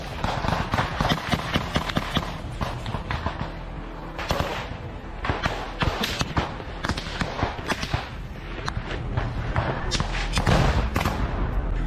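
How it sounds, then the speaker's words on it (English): Gunfire coming from all sides at Russian soldiers in war footage, an irregular stream of sharp cracks and thuds that fall close together, some loud and some more distant, across the whole stretch. "we see them being met with fire from all sides, yet they still manage to advance a little further"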